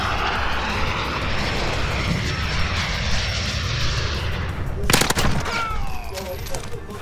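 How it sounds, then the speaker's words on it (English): Drone aircraft roaring overhead in a Search and Destroy match of a shooter video game, a loud continuous engine wash, then a burst of sharp gunfire near the end with faint voices. "Friendly UAV online."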